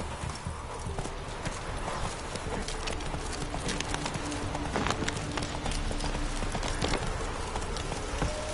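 A horse's hooves clip-clop steadily in the video game The Witcher 3, a fast, continuous rhythmic trot up close over a constant hiss like rain, with no voices.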